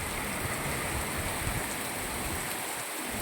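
Heavy rain pours down steadily in Moti Gop, Gujarat, in a dense, unbroken hiss with no voices, loud and close throughout.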